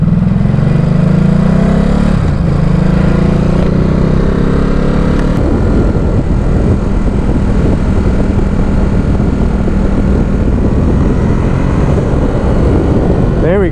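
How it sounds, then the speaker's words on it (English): A Ducati Supersport S motorcycle accelerates hard, close up. The engine note climbs in pitch, breaks at quick gear changes and then settles into a loud, rough roar, with wind buffeting over it. "There we go. Ducati power."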